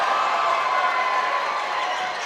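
A steady roar from a basketball crowd at the Moycullen versus Griffith Swords Thunder National Cup semi-final swells after a three-pointer, a dense, continuous cheer filling the arena.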